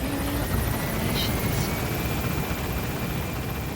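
Helicopter lifting off from a landing zone in Metal Gear Solid V: The Phantom Pain, a steady rotor chop and turbine whine heard up close and continuously, alone without speech.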